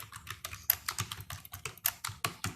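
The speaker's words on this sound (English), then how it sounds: "so I will type in my name as my signature" Someone types a name on a computer keyboard, producing a steady, evenly spaced patter of crisp key taps, close up and moderately quiet, with no voices.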